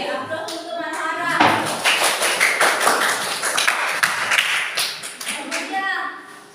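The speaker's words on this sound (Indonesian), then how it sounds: "Aplaus untuk Manhara." Classroom applause from a group of pupils, several seconds of close, dense clapping that rises quickly and fades unevenly, with children's voices mixed in.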